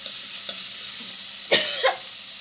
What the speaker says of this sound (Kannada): ನೋಡಿ ಈ ಥರ ನೀಟಾಗಿ ಫ್ರೈ ಮಾಡ್ಕೊಳ್ಳಿ